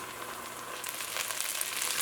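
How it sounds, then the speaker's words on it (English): Rice frying in a pot for a Trini bhagi rice dish with smoked turkey, a steady close sizzle that grows slightly busier and brighter partway through, with no voices. "I want the rice to start frying up in here for a little bit"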